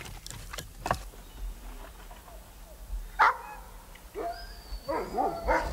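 Sled dogs at a remote cabin barking and yipping in short scattered bursts, some higher whines mixed in, moderately near over a low steady background.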